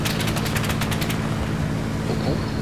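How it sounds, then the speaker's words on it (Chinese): Rapid gunfire aboard a boat, a quick burst of evenly spaced loud shots for about a second, then a rumbling engine and noise carry on alone. "繼續開炮啊！"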